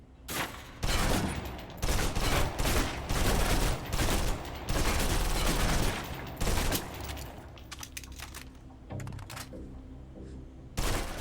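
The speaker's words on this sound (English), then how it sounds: "Now, let's move on to the submachine gun. Now let's empty the clip." In the video game Alpha Protocol, a submachine gun empties a full clip in rapid bursts of gunfire. The shots are loud and close, coming in several long volleys before the fire tapers off, with no talking.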